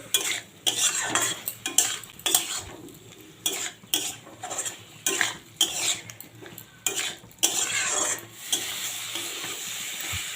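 Jackfruit and potato stir-fried in a pan for a Bengali kalia, a spatula scraping and clinking against the metal in uneven bursts over a faint sizzle, close and fairly quiet.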